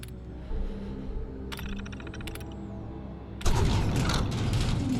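A blast door opens in the video game Fallout 4: mechanical clanks and a whirring servo, followed by a sudden loud heavy rumble as the massive door grinds open and keeps roaring.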